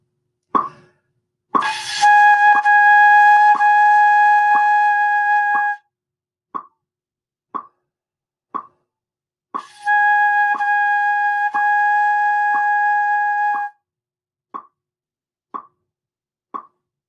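Flute head joint played alone through an exercise line: two sustained breathy tones, each followed by a steady series of short tapped notes in even rhythm, close and clear with no talking.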